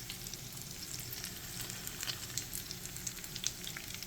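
Italian meatballs frying in a pan give a steady, close sizzle with fine crackling pops throughout, with no voice over it.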